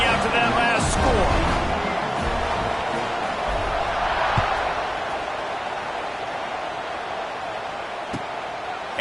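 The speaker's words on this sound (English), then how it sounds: "this crowd is buzzing after that last score" Stadium crowd in the College Football 26 video game buzzes after a score before a kickoff, a steady broad murmur with a few sharp knocks, easing slightly in the second half.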